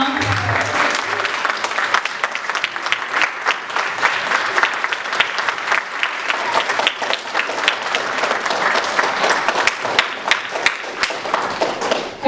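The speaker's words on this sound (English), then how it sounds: "Would you please stand and give them a round of applause?" A standing crowd at Eccleston Elementary claps for the Parent Honor Society, long, sustained applause of many hands that stays loud and dense for about twelve seconds, with a brief murmur of voices at the very start.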